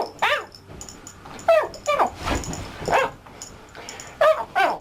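A man imitates fox noises with his voice, producing a run of short, high, yipping and whining calls separated by brief gaps, close and fairly loud.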